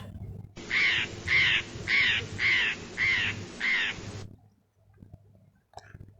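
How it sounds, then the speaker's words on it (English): A parrot gives six harsh, rhythmic squawks in quick succession, loud and close, followed by quiet with a faint call at the end. "parrot"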